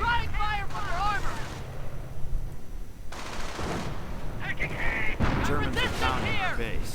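Battle sounds in a WWII strategy game, with a steady rumble of gunfire and distant artillery booms under chirping, whistling effects, continuous and moderately loud.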